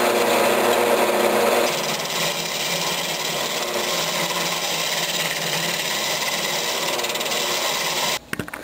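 Wood lathe hollowing out an apple burl travel mug, a steady rasping scrape of the tool against the spinning burl that runs continuously for several seconds before cutting off abruptly near the end.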